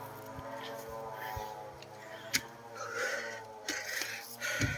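Heavy, ragged panting from someone hiking a steep shortcut trail near a ravine on the way to Hulugan Falls. The breathing is close, over constant outdoor hiss, with brief voices and a few sharp knocks.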